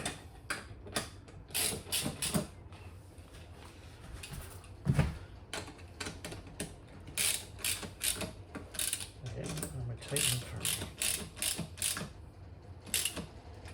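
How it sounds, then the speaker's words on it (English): A 13mm ratchet socket tightens bolts on a BERG BFR Black Edition pedal go-kart, giving bursts of quick, fairly quiet ratcheting clicks separated by short pauses. "you're still on the 13mm spanner or socket set, and again, tighten these firmly."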